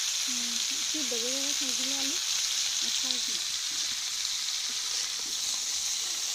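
Drumstick vegetables and potatoes fry in a pan with a constant bright sizzle, while someone speaks briefly over it early on.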